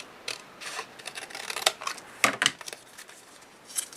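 Paper strips for a Martha Stewart scoring board are cut in short, close snips and crisp rustles, several quick bursts spread irregularly with brief pauses, no voice.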